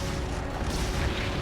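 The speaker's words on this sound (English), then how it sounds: "Oops, too close to that explosion." A loud, dense blast from the Monster Hunter game, fought with a Light Bowgun against Glavenus, roaring broadband and sustained without pause, with no voices over it.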